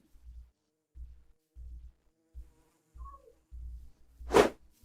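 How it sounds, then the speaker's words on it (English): Bees buzzing in Minecraft Java Edition 1.15, a series of short low buzzing pulses repeating roughly every half second, then a brief louder rising tone at the end. "you can actually leash all of your bees, and then they will come along with you"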